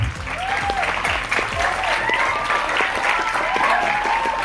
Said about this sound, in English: Please welcome with a big round of applause to Pravda ma'am and Raghav